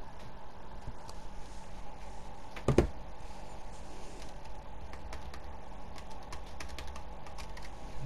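Steady clicking of keys on a computer keyboard, a rapid irregular patter continuing for several seconds at close range with a brief louder knock partway through.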